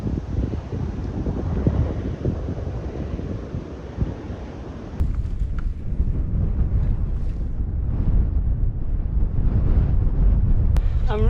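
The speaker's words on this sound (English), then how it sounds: "I'm really glad I'm not riding into this wind because it's pretty strong." Strong wind buffets the microphone on an exposed hilltop mountain bike trail on the Southern Upland Way in Scotland, a loud continuous roar with gusty rumble throughout and no talk.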